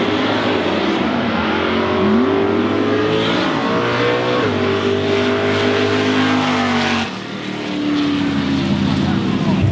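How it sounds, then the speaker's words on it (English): A car does a long burnout, its engine revving hard and holding high, wavering pitches with tire roar, dipping briefly and surging again, loud and close with voices talking over it. "he gets the trophy for the freaking longest burnout of the day"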